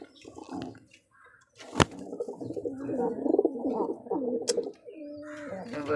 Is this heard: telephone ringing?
no